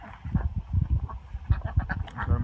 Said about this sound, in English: ducks are hanging out outside